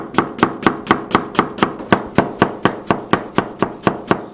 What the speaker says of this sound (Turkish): Diğer harcımız için 2 tane soğanı çok küçük doğrayacağız.